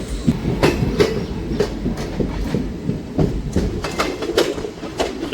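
Passenger train 54532 from Kalka to Ambala Cantt rolling along near Chandigarh Junction, with steady rumbling wheels and repeated clickety-clack rail-joint beats running throughout at close range, no voices.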